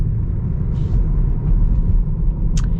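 A 2022 Tesla Model 3 Long Range accelerates at full throttle in chill mode, producing a steady low road rumble and tyre noise from inside the cabin, with a brief high squeak near the end.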